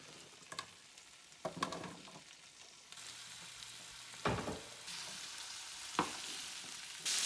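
Vegetables drop into hot olive oil with garlic and fry in a soft, close sizzle, punctuated by a few stirring scrapes and clatters that swell the sizzle as the food lands and moves.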